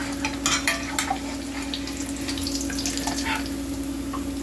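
A flipped chicken parm cutlet frying in a pan, with a steady broadband sizzle and faint hum underneath, plus a few brief clatters near the start; no one speaks.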